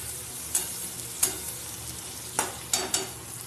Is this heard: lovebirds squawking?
no